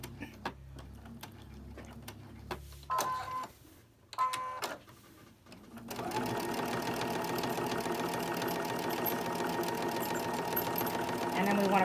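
A sewing machine stitches steadily along the edge of a glued gift card holder, a continuous fast mechanical whir that starts after a few short bursts and runs loud and even to the end.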